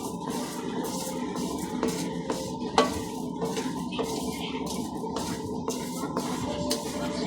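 Raw rice is stirred and toasted dry in a pan to make rice coffee, with repeated scraping strokes over a steady soft crackle and an occasional sharp knock of the utensil.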